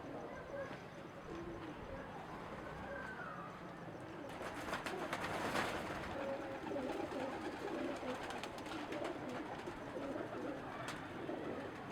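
Pigeons coo softly and repeatedly amid a dense, busy background hum, with occasional rustling and faint chatter.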